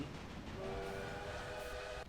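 In the Railway Empire video game, a steam-era train rolls along with a rumbling background, and a sustained whistle tone sounds midway before cutting off near the end, fairly faint with no voices.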